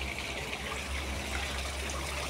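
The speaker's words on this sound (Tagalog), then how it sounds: "Lagyan ko ng tubig para mawala yung tae ng isda." Water steadily gushing and pouring into a dirty garden fish pond to flush out fish waste, a continuous, fairly loud rushing stream with no breaks.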